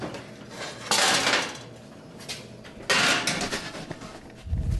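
Oven door and rack handled as a baking tray goes in, with two loud rattling metallic bursts about two seconds apart and a low thud at the end.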